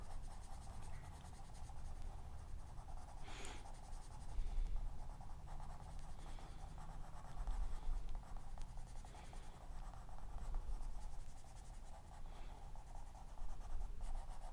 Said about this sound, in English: I twist and roll my pencil as I go